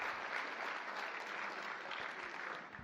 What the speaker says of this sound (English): a rousing round of applause for the spouses that are with us tonight